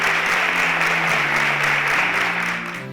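A large audience claps steadily and densely at a science competition semi-final, sustained loud applause fading slightly at the end.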